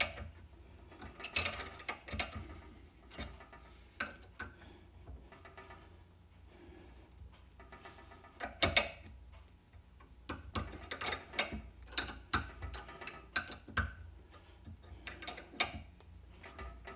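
A wrench ratchets on the front shock absorber nut of an MGB, giving close, irregular clicking and metallic ticking in clusters over steady low background noise, with no talk.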